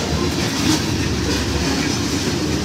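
A Canadian National freight train rumbles past close by in Effingham, Illinois, with steady low clattering of wheels on rails and a dense continuous roar, no voices.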